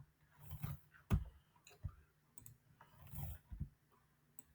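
Mouse clicks made with the direct selection tool in a graphics program: a handful of faint, separate clicks with irregular gaps, heard alone in a quiet room.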